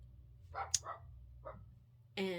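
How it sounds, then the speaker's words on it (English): A dog barks outdoors in the distance, giving a few faint, separate barks behind quiet background noise. "there's a dog barking outside"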